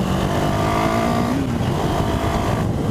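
A 2017 KTM 390 Duke motorcycle engine drones steadily up close, its tone rising slightly and then holding, with wind rush over it and no voices.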